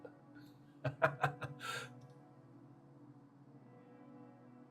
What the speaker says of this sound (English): These are some bells.